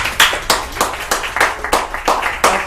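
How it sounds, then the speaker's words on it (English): Applause at a women's group meeting: a few people clap in an even rhythm, close and fairly loud, about eight claps in under three seconds. "Give her a big round of applause."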